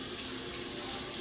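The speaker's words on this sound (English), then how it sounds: "I'm going to go ahead and put the water in." Water running steadily onto a wet, wavy wig, a continuous close splashing rush like a tap into a sink, loud and alone without any talk.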